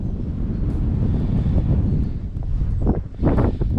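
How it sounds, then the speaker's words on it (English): Gusty wind buffets the microphone in a loud, rumbling roar that swells and eases, with no talking. "All of a sudden it's just gotten really windy."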